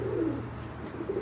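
A pigeon coos softly on a rooftop, a low throaty rolling call repeated twice, close by against quiet background noise.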